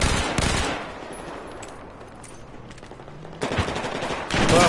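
Grenade explosion in Battlefield 4, a loud burst of blast noise followed by a quieter lull and then renewed heavy gunfire rumble, close and dense.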